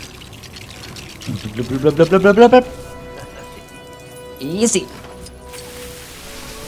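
Water pours and splashes in quick bursts in the video game Lego Batman 3: Beyond Gotham, first a rising gurgling run, then a shorter splash a couple of seconds later, with a brief spoken word.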